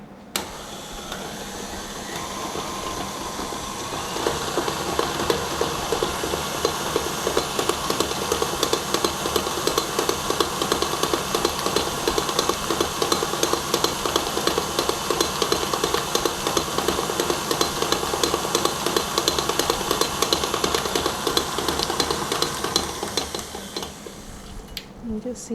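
An electric hand mixer beats cream cheese and sugar at medium-high speed for an eggless New York cheesecake, a continuous whirring motor with rattling beaters against the bowl that starts softer, holds steady and fades near the end.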